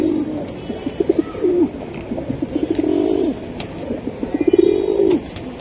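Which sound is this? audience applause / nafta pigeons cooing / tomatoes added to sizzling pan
nafta pigeons cooing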